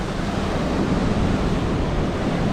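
Energetic ocean waves at Prachuap Khiri Khan beach crash in a steady, loud, broadband roar of surf mixed with wind rushing over the microphone, no voices.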